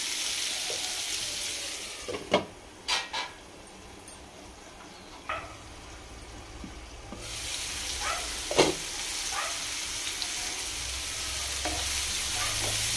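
Capsicum curry (green and red capsicum) cooking in a pan gives a steady low sizzle, with a few scattered clinks and scrapes of stirring throughout and a quieter stretch in the middle.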